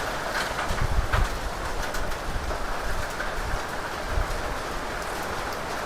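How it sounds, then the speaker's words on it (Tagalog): Steady heavy rain hiss with gusty wind roaring throughout during Typhoon Enteng in Ilocos, a constant dense wash of noise with occasional stronger bursts. "malakas na talaga yung ulan at saka hangin dito"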